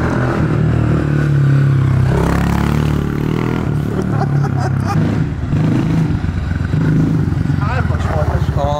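A Honda CRF motorcycle pulls away and rides off, its engine revving with some clatter close by, while people talk over it.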